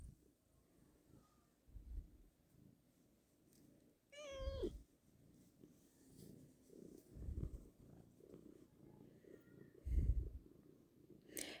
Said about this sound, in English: I thought petting my cat would stop her from meowing.